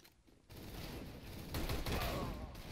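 Dense, continuous gunfire from the video game CS:GO, loud, rapid overlapping shots that thicken into a heavier burst halfway through and keep going with no pause.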